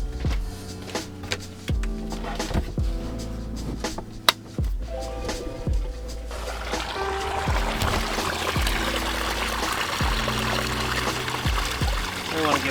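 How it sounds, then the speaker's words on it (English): Gray water from a camper van's waste tank pours steadily from the drain at a campground, a rising gush that grows fuller partway through, with clanks and occasional voices around it. "Another campground, another gray tank dump."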